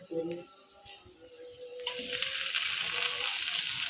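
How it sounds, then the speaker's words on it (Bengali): Red amaranth greens cook in a pan, starting with a few clinks and scrapes before a loud, broad sizzle rises and holds steady, close and bright. "এখন আমি এই যে শাকগুলা রান্না করে নিব লাল শাক"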